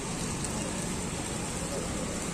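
Steady heavy rain falls in foggy hills near Kohima, a dense continuous hiss that stays close and even throughout with no pauses.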